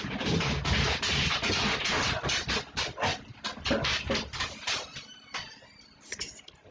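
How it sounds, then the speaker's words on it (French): A dog whimpers and pants in a run of close, uneven whines and breathy bursts that taper into shorter, softer sounds. "Ah, c'est mon chien."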